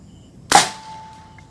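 A single sharp, loud report from an NB-013 air rifle firing a JSB 18.13g pellet, with a brief crack followed by a short fading ring in otherwise quiet surroundings.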